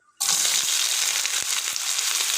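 Coarsely chopped onion hits about two spoons of hot oil in a pan and bursts into a loud, steady sizzle, with a few soft stirring knocks under the hiss.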